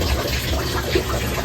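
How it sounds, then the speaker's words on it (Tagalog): Water pouring into a Panasonic automatic washing machine with a U11 error and weak water supply, a continuous close rushing and splashing that holds steady throughout. "Pumapasok pa yung tubig."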